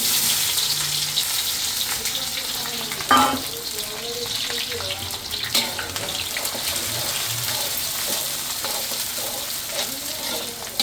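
Onions sizzle steadily in hot oil in a pan for a home-cooked mutton curry, a close, continuous crackling fry with occasional scrapes and knocks from stirring.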